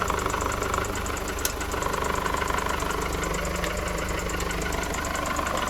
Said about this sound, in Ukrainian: Як бачимо, запустили двигун, підключили інвертор.